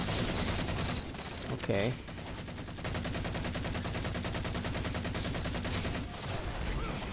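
Halo 4 multiplayer gunfire rattles in rapid automatic bursts, a rhythmic machine-gun stream running through most of the clip among other battle noise, with a brief spoken word.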